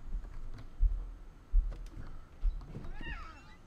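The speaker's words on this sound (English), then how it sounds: "Now there's a putty cat outside." A cat meows a few times outdoors in the game What Remains of Edith Finch, the calls faint and mixed into a quiet scene with soft low thumps.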